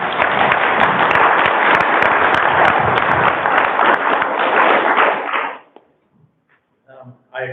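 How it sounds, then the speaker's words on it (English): A crowd at a local candidates' forum applauds firefighters, a dense, steady wash of clapping that lasts about five seconds before cutting off, followed by a few faint voices. "give them a round of applause"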